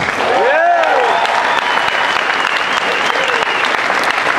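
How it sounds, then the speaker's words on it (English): Steady applause from a crowd at an event, with a few voices calling out briefly near the start, clapping holding at an even, fairly loud level throughout. "Guys, give yourselves a round of applause."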